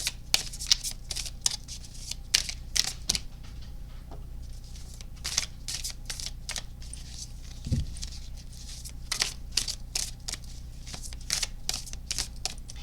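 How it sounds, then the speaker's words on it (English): Tarot cards being shuffled for a pick-a-card reading, a steady run of crisp riffling bursts and soft slaps close to the microphone, repeating for several seconds with no voices. "let's go ahead and let's draw the cards for each of the readings"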